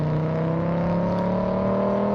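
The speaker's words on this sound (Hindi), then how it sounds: "V5 का इंजन साउंड है।" A steady, droning V5 engine hum with strong low harmonics, holding a constant pitch throughout, loud and close with no voices.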